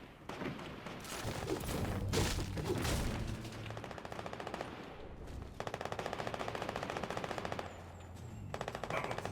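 Gunfire in the video game Fortnite: bursts of rapid automatic shots, an opening volley followed by a long steady machine-gun stream, fairly quiet in the mix with no talking.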